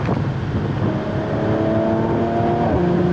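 A Mercedes-AMG C43 Cabriolet engine revs steadily and loudly, its pitch climbing through the higher rev range as the note builds over a few seconds.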